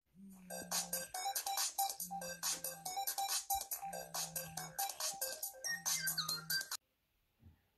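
Ringtone from a Vkworld T2 Android dual-screen flip phone from 2016, a bright repeating electronic melody in four phrases with a low tone under each, played loudly for several seconds before stopping.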